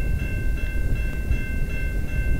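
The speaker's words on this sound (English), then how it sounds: "here comes the CN train" CN freight train passing on the Dundas Subdivision in London, Ontario, heading westbound: a loud, close, continuous rumble of rolling cars with steady rail noise and no talking.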